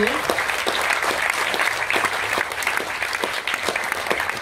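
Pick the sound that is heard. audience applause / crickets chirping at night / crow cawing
audience applause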